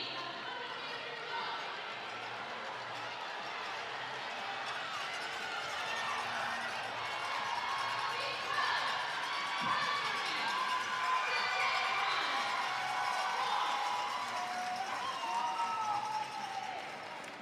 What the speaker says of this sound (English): The track is very loud right now. We've got the 4x2 women's relays on, so a lot of cheering